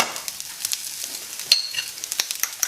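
An egg frying in a separate pan gives a light crackling sizzle with scattered spits and pops, close and fairly quiet, with no talking.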